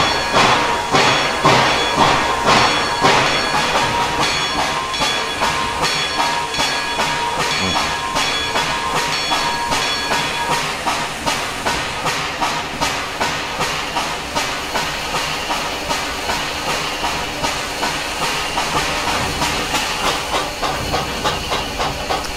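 A TPR/AVTCo E-2 4-6-0 steam locomotive in the Trainz 2019 game chuffs loudly and steadily, the exhaust beats in an even rhythm under hissing steam and rail clatter throughout.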